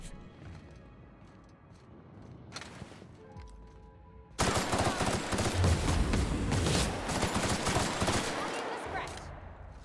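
Gunfire in The Outer Worlds: Peril on Gorgon on hard difficulty. Quieter scattered sounds come first, then loud rapid automatic fire breaks out partway through and continues as a dense, close barrage to the end.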